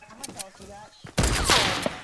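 Rapid video game shooter gunfire bursts in at full volume after a stretch of quieter game sounds and voices, a dense, loud fusillade of automatic shots.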